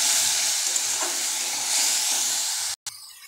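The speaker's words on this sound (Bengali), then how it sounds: "এবার খুব ভালো করে কষিয়ে নেব।" Ginger-garlic-chili paste with ground coriander, cumin, chili and turmeric sautés in a pan for chicken keema tadka, a steady moderate hiss and sizzle with light stirring, briefly dropping out near the end.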